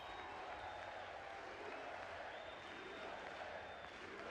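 Audience applause for the American Olympic hockey team at the 2026 State of the Union address: a faint, steady wash of clapping and crowd noise that lasts the whole few seconds.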